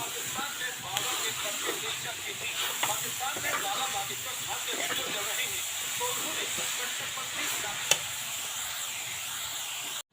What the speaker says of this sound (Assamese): নাৰিকল আৰু চেনিখিনি মই এতিয়া ভাজি আছোঁ ইয়াত